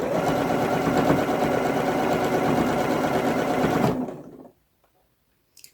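A sewing machine runs steadily while stitching through fabric in a pattern tutorial, its motor humming and needle chattering at a constant close, loud rate for about four seconds before it abruptly stops and falls silent.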